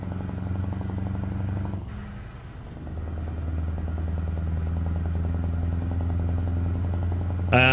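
Truck engine fitted with open exhaust stacks in a driving game, a loud steady low drone with a brief dip in the middle and a short sharp hiss or brake burst at the very end.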